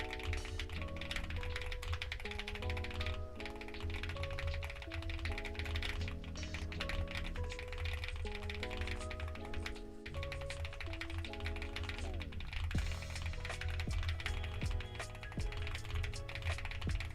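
Rapid, steady keystrokes from a computer keyboard during an online typing race, clattering continuously under melodic background music with no pauses.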